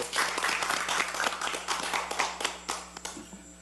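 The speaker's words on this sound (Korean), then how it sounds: "힘찬 박수로 모시겠습니다" An audience at a political party event claps in a brisk, dense round of applause for a few seconds, fairly close and steady with a slight fade near the end.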